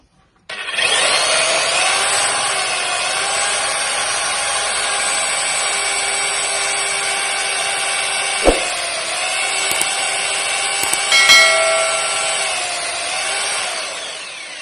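A heavy-duty electric drill machine runs continuously with a bit boring into wood, a loud steady whine with harmonic tones lasting about fourteen seconds, broken by a sharp click midway and a brief rattle near the end, with no talk.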